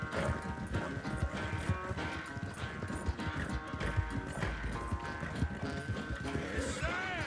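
Horse galloping in Red Dead Redemption 2, a rapid steady clip-clop of hooves at close range with a brief whinny near the end, mixed with game sounds and talk.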